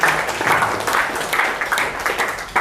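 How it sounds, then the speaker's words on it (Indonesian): Classroom students clap together in a dense, steady burst of applause lasting a couple of seconds, close and fairly loud with no talking. "makasih tepuk tangan untuk Opik ya."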